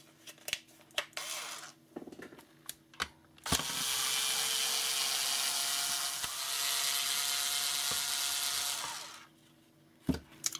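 Close, loud whirring from a power screwdriver runs steadily for several seconds while it backs screws out of a plastic Nerf Rival blaster shell, with a few sharp clicks and taps of handling before and after.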